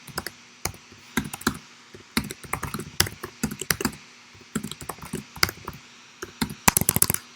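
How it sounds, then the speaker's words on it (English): Typing on a computer keyboard, with irregular bursts of crisp, close keystrokes and clacks running throughout, the pace speeding up into a dense flurry near the end, with no talk over them. "let me type this."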